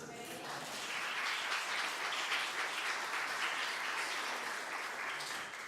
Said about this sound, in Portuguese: Você podia aplaudir a Jesus agora.